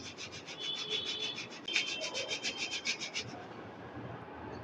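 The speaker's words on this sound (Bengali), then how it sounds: "এইভাবে আমি চেলে চেলে সবগুলো গুঁড়োই কিন্তু আমি বের করে নেব" Ground rice flour is sieved by hand in a kitchen, giving a quick run of rhythmic scratchy rubbing strokes, close and moderately quiet, that stop partway and leave a soft background hush.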